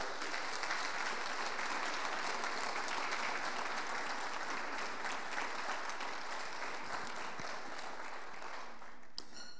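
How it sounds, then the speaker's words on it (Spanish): A church congregation applauds, sustained and even clapping from many hands filling the room for nearly ten seconds before tapering off at the end. "Dale un aplauso a Cristo"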